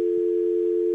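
A steady, loud telephone dial tone hums without a break on a phone line during a radio broadcast call, with no talking.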